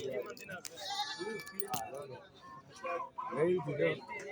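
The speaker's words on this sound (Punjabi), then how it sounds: "ਆ ਖੜੇ ਆ ਬੱਕਰੇ" Goats bleat a few times at a goat market amid nearby people talking, their wavering calls rising over the chatter.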